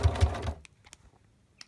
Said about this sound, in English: I've now sewn the Velcro onto the top hem of the blind